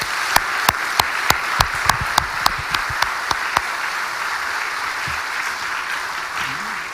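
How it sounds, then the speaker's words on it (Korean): A congregation claps during a church installation service for a new senior pastor. Steady, loud applause carries throughout, with a dozen sharp, evenly spaced accented claps in the first half riding over the wash of hands, and the crowd murmuring faintly beneath. "우리 하나님께 영광의 박수를 한번 올려드리기를 소원합니다"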